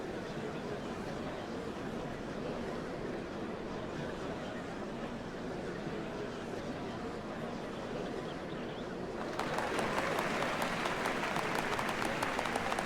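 Large crowd applauding at a ceremony for the changing of the Dawn servants in Final Fantasy XIV Dawntrail, a steady broad wash of clapping that swells louder and brighter near the end.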